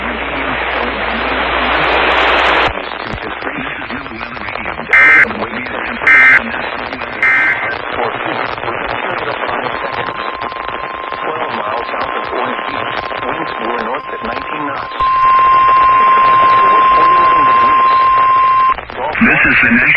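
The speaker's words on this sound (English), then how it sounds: "The preceding signal was a test of the new weather radio warning alarm device" A weather radio warning alarm test signal sent by the National Weather Service in Mobile, Alabama, aired on live TV: a steady electronic tone and bursts of data-like beeps that run for several seconds over the broadcast's background sound.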